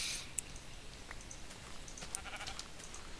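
Sheep bleating in the Minecraft video game, a couple of short, faint bleats standing out over a low background hum.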